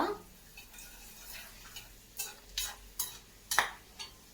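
Red chillies, cinnamon and cloves frying in oil, a quiet low sizzle broken by a series of sharp scraping stirs that grow more frequent toward the end.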